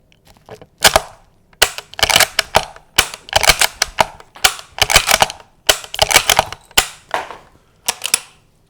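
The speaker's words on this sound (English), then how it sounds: "As you can see, this gun cycles and runs just as fast and just as smoothly as any other Lee Enfield." A No.4 Lee Enfield rifle converted to .223 Remington for target shooting has its bolt cycled over and over, giving a steady run of sharp metallic clacks and rattles, close and loud, with no talking.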